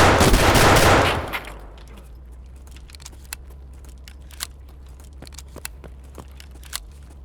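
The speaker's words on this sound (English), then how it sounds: "This guy's shooting slugs." Shotgun slugs fired in Escape from Tarkov: a loud burst of noise at the start, then a series of faint, sharp, spaced-out reports over a low steady hum, with no talk.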